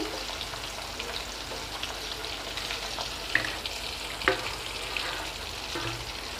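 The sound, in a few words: prawns frying in hot oil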